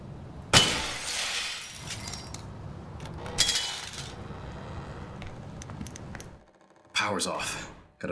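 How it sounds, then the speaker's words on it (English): In the liminal horror game The Classrooms, glass breaks in three sharp shattering crashes, each followed by a spray of tinkling shards over a low droning background. "I need to break the glass."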